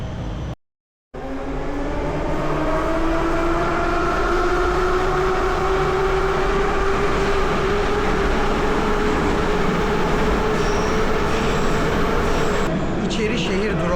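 A Baku metro train runs steadily with a loud rumble and a rising electric motor whine, continuous and close, briefly cut off near the start.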